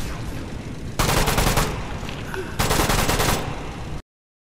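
Enemy automatic gunfire in the Metro Awakening VR video game, two loud sustained bursts of rapid shots over a rumbling background, the second burst shorter, then a sudden cut to silence.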